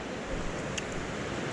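The Dosewallips River in a Washington state park rushes past in a steady, unbroken broadband roar of flowing water, carrying a log downstream, with no voices.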